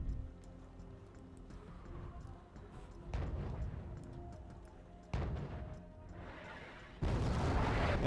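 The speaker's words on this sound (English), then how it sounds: "we got Mortars trying to snipe the CV, and he's actually hitting it dead on" Mortar fire in the strategy game Wargame Red Dragon lands as three muffled, fairly distant booms spaced a couple of seconds apart over a low background hum.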